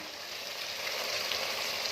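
Chicken and onion fry with ground spices such as garam masala, salt, turmeric and red chili in a pan, giving a steady, even, fairly quiet sizzle throughout.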